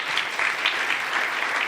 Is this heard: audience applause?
yes